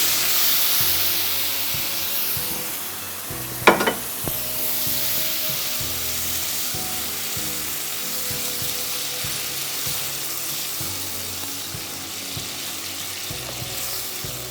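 Tomato puree sizzles in a pan with lightly sautéed, translucent onions, giving a steady frying hiss throughout, with a brief clatter from utensils or stirring near the start.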